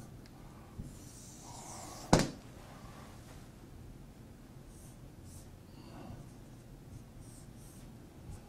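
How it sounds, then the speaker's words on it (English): A crude diagram is sketched by hand, with soft scratchy drawing strokes, one sharp tap or knock near the start, and quiet scraping marks scattered through otherwise near-silent stretches. "I'm going to draw a real crude picture."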